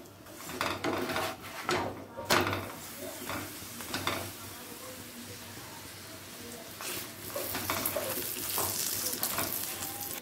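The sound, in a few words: aloo paratha roasting on a hot tawa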